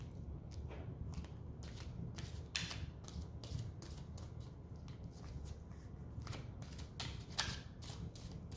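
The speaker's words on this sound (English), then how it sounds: "I'll go ahead and shuffle the cards." Tarot cards being shuffled by hand, a series of soft, quick riffling and flicking bursts repeating at an uneven rhythm, close and quiet with no voices.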